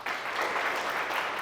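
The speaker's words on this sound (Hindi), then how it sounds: "तालियां बजा दो।" An audience claps in a classroom lecture on answer writing for the RAS main exam. The applause is a steady, continuous patter that holds at an even level throughout.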